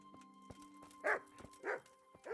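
A dog in the video game Kingdom Come: Deliverance gives three short barks about half a second apart, each a clear yelp standing out over a faint, steady game ambience with no talking.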